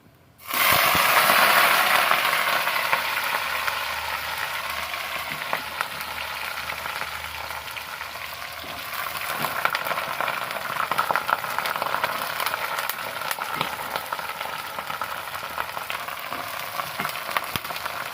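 Potato and capsicum hit hot oil in a pan for an egg curry, bursting into a loud sizzle that settles into steady, crackling frying with occasional stirring clicks.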